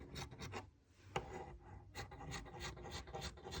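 Scissors snip through white fabric for a small opossum plushie in a series of soft, close, rhythmic rasping cuts, quiet and alone.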